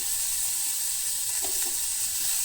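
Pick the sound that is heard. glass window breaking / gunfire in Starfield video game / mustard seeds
mustard seeds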